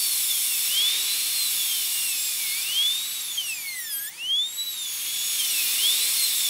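A 1557 dental burr, one millimetre in diameter, drills an upper molar for a full zirconia crown prep, a high whining drill tone rising and falling repeatedly in pitch, close and continuous.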